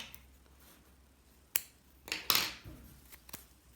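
Scissors snipping through paper yarn while making a crocheted bag, a few sharp, close cuts with a louder double snip in the middle against a quiet room.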